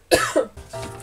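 A woman coughs twice in quick succession, close and loud, followed by a brief rough throat-clearing rasp, with no talk.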